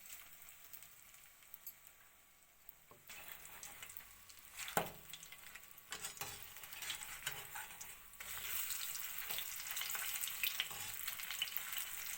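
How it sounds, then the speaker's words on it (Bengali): Marinated bhetki fish fry in hot oil, a faint, low crackle that swells into a brighter, steadier sizzle midway, with scattered sharp taps and pops along the way. "তেলটা গরম হয়ে গেছে এবার মাখানো মাছগুলি একটা একটা করে দেওয়া হইব"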